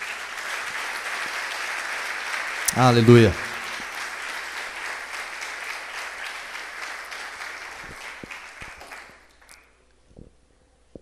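A church congregation applauds during a Portuguese-language sermon, steady broadband clapping throughout with a brief loud vocal exclamation near the start, then fading out to near silence before the end.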